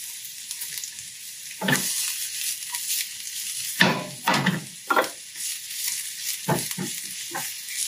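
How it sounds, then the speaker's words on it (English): Onions sweat in a pan with about one and a half tablespoons of oil, hissing softly and continuously while a utensil stirs and scrapes in several quick, separate bursts. "So I'm sweating the onions out."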